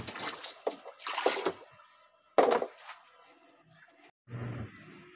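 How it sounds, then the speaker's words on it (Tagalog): Tap water splashing and trickling into a laundry basin for hand-washing clothes, in uneven gushes broken by short pauses, fairly close and moderately loud with no talk. "Yan, nag-iipon na po tayo ng tubig."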